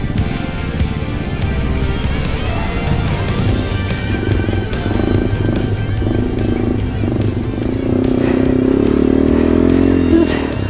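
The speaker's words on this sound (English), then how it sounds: "I've never drifted so much on my bike before." A Yamaha TW200 motorcycle slides sideways through snow in a forest, its single-cylinder engine revving steadily and clattering close by, climbing to a louder, higher-pitched rev toward the end.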